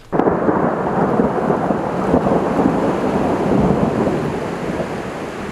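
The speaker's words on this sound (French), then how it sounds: "L'orage gronde, les éclairs zèbrent le ciel." Heavy rain pours steadily while thunder rumbles low and continuous, with a sharp crack at the very start and wind buffeting throughout.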